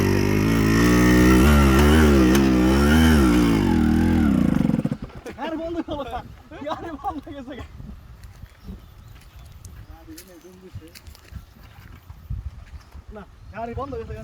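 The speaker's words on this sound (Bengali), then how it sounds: "এইখানে আমরা একটা বাইক নিয়ে পাগলামি করতেছি।" A motorcycle engine roars and revs loudly up close while riding through an African forest, then cuts off abruptly, leaving people talking over faint rustling and background noise.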